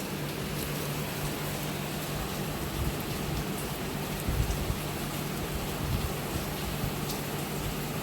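Heavy rain falls steadily at night, a dense, even hiss of drops on surfaces that holds at the same level throughout, with no voices.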